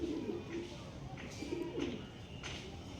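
Domestic pigeons of a high-quality fancy breed coo in low, repeated rolling phrases close by, steady and soft, with faint background chirps.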